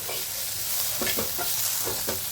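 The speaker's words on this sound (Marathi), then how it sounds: "याचा तांबूस कलर येईपर्यंत आपल्याला असे फ्राय करायचे आहे." Chopped onions for kanda poha fry in a pan with a loud, dense sizzle, broken by several scraping stirs of a spatula, close up and without talk.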